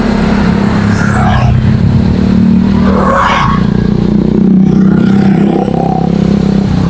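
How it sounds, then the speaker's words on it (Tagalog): Vehicles pass on a road beside a river, a loud, continuous rushing roar with swelling whooshes as they go by, heavy and close throughout. "Maririnig mo lang yung mga dumadang sasakyan."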